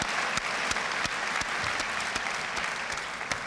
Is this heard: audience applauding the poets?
yes